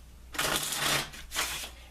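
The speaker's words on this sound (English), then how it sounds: "I'm going to take a few moments to shuffle the cards." A deck of Arcana Tarot Playing Cards riffled twice in quick succession, a dense close fluttering rush of cards lasting under a second each, with no talk over it.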